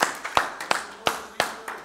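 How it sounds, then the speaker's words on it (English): A church congregation gives a short round of hand clapping during a Wednesday evening worship service, with about six separate loud claps in an uneven rhythm and no talk over them. "Give the Lord a hand clap tonight."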